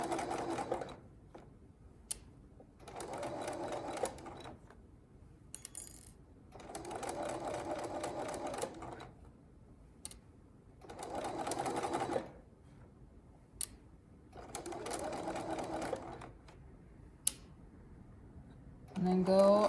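A sewing machine stitching a curved seam runs in several short bursts of rapid, even clatter, separated by pauses and small clicks, with talk audible between and over the runs.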